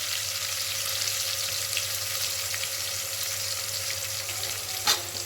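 Onions sautéing in a pan, a steady broadband sizzle running evenly throughout at moderate level, with one brief clatter near the end and no voices.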